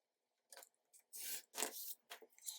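Scissors trimming paper for a junk journal page, heard as several quiet, close, crisp snips and rasping cuts with short gaps between them.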